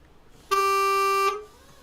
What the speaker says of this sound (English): Got its own horn, which is cool.